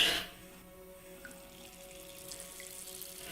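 A tap runs in the survival horror game Darkwood, opening with a brief loud splash and then settling into a steady, fairly quiet stream of water, with no voices.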